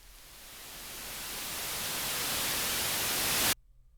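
Noise sweep transition effect built in Ableton, a broad hiss that swells steadily in volume and brightness over a few seconds before cutting off abruptly.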